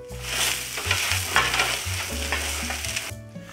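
Arborio rice toasts with cooked onion and garlic in a pan for a mushroom risotto, giving a close, steady sizzle broken by stirring scrapes, with a low hum underneath and no talking.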